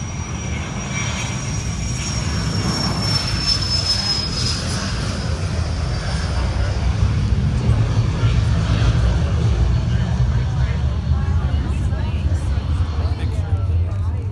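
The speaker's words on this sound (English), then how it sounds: "There's a plane. Is it going off? That one is." A four-engine World War II propeller plane, 2,000 horsepower per engine, roars steadily and loudly as it takes off, a continuous deep drone with a rising whine above it, while people talk nearby.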